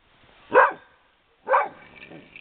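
A dog gives two short, sharp barks about a second apart, close by and fairly loud, with quiet pauses between them.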